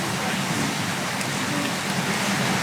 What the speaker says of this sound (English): It's really rainy.